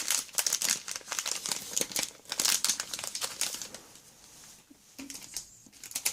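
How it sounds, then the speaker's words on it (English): Plastic packaging being pulled open by hand, heard as close, sharp crinkling and crackling in quick bursts, with a brief quieter pause midway before the rustling picks up again. "Just open the packaging."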